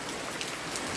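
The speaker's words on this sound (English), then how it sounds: "It's raining really hard while the animals are sleeping in" Heavy rain pours down in a dense, steady hiss of drops striking surfaces, loud and continuous throughout the short stretch with no pauses and no voices.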